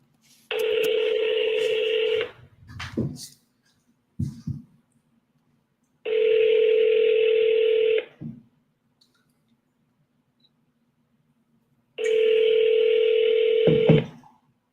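A landline telephone gives a steady dial tone in three separate bursts, each broken by clicks and handling knocks as buttons are pressed, heard close and quiet with no talking.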